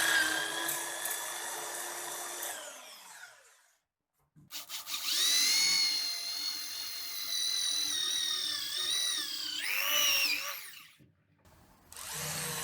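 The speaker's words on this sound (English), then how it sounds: "I use a step drill to enlarge the two holes on the ends that will house the bearings" A step drill whines through aluminum in two bursts, enlarging holes with a high shrieking tone that rises and falls, with a short silent gap between them.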